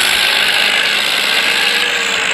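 A tractor tug-of-war between Sonalika and Arjun tractors: a loud, steady engine roar with a broad, continuous mechanical rumble close by, no pauses.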